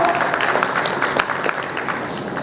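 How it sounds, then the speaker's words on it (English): An audience applauds panelists and the moderator at the close of a workforce panel discussion, a sustained, even clapping from a room full of people. "A round of applause for our panelist and"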